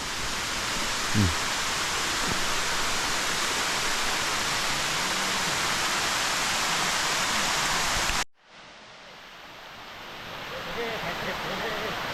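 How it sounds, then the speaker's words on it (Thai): Broadband roar of a stepped, terraced waterfall in Nong Hin district, Loei province, Thailand, loud and steady for about eight seconds, then cutting abruptly to a quieter, distant rush of water. "น้ำตกเป็นขั้นบันได"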